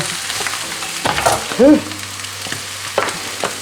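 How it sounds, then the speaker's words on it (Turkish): Onion frying in sheep tail fat for içli köfte gives a steady close sizzle, with a few scraping stirs and brief clatters over the hiss. "Şimdi soğan da biraz kavrulsun şöyle. Şöyle bir parmak kadar da kuyruk yağı koydum içine."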